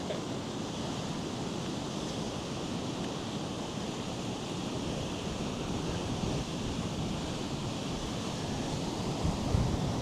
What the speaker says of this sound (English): A little windy out there.